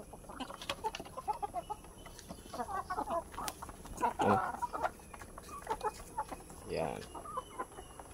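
Oriental gamefowl chickens clucking in short, scattered bursts on a farm, close and moderately loud, with people talking intermittently over them.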